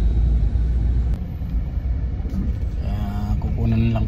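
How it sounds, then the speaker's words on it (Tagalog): Heavy traffic on Sauyo Road makes a loud, constant low rumble of nearby car and engine noise, with a voice speaking faintly beneath it toward the end. "Sobrang bigat ng traffic dito po sa may Sauyo Road."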